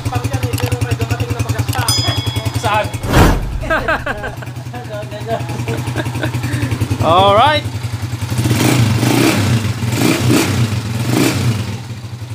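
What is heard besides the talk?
Honda TMX155 motorcycle exhaust running after overhaul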